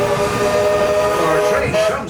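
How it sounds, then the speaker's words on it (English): The Disneyland Railroad steam train brakes to a stop with a loud steady tonal squeal and hiss over the rumble of the cars, and the pitch shifts near the end. "Our train comes to a complete stop."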